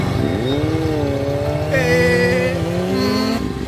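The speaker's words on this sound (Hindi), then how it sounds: "फिलहाल अभी तो आप मेरे साथ बाइक पर चलिए, हम कॉलेज तक घूम कर आते हैं।" A motorbike pulls away, its engine note rising and shifting pitch as it revs and accelerates, loud and close, with a higher whining tone joining midway.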